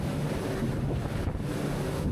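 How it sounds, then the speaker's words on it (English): A Saxdor 400 GTS boat runs through waves at 36 miles an hour, its hull gliding over them. Steady rushing wind and water roar fills the whole stretch with no talk. "we're just coming through those waves at 36 mile an hour, gliding over them"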